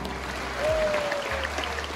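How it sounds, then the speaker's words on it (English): Audience clapping at a zoo animal show in Singapore, a steady wash of applause from a crowd close by, swelling briefly midway. "Give yourself a big round of applause."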